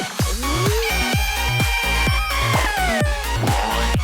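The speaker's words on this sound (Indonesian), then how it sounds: "Yang ia temukan adalah seekor ayam yang bertelur." A hen clucks while laying an egg, sounding loud and close in a rapid, rhythmic series of calls over a steady repeating backing.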